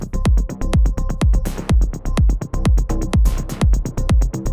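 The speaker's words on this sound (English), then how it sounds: "Classic 808 closed hat." A steady, crisp 808 closed hi-hat ticking in a fast pattern over punchy kick drums and a melodic techno beat, loud and close.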